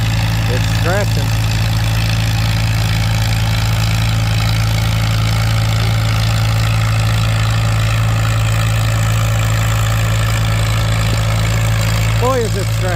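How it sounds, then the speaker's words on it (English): Antique M tractor engine under heavy load at a tractor pull, a loud, steady low drone with a strong throbbing hum throughout, and an announcer talking over it at times. "Tough pulling tractor."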